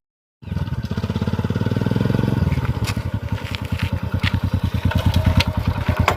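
A motorcycle engine starts up close and loud during a rowdy Dhuleti festival outing, settling into a fast, even putter that runs steadily without talk.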